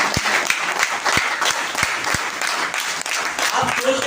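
An audience at a training event claps in a sustained round of applause, dense and close, with a voice speaking over it.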